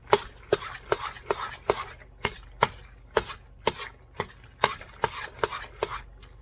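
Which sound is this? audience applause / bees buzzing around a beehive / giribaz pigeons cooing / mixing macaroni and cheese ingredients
mixing macaroni and cheese ingredients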